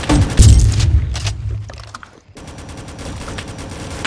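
Rapid bursts of gunfire from the arcade game Rolling Thunder, loud and dense with thumping booms, a brief lull, then steady continuing shots.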